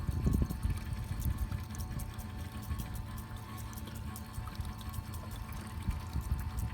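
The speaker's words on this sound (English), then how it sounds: "Coming up to the 6th gallon of petrol coming out now" Petrol draining from a Mk3 Ford Fiesta into a jerry can, a steady continuous pouring and splashing of liquid that stays fairly loud and even throughout, with no talking.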